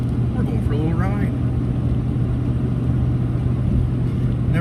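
A vehicle drives steadily on a short ride to a shop, its engine a continuous low rumble close by throughout, with a brief faint voice or whine early on.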